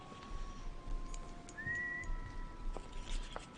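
Whistling in The Council, Episode 2, a video game: a single rising then steady tone sounds mid-way, fairly faint over a murky low background with a few brief clicks.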